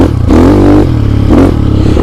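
A GPX motorcycle with the exhaust baffle removed revs in second gear, giving a loud, close, rough engine note that rises and falls in two quick throttle blips.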